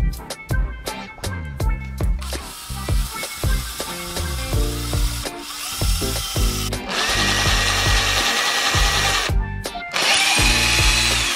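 A power drill pre-drills holes in wood to keep it from splitting before screwing, heard up close as repeated short whirring bursts followed by longer sustained runs of the motor.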